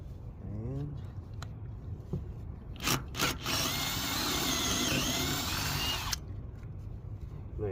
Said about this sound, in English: I'm going to drill down through the deck core.